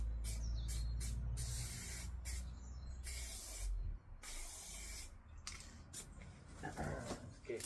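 Aerosol spray paint can hissing in repeated bursts of varying length, close and fairly loud, with short pauses between sprays and faint background noise, no speech.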